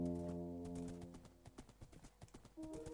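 Horse hooves clip-clopping in the video game WarLords, a run of distinct steps over a sustained tonal music or drone bed, moderately loud with no talk.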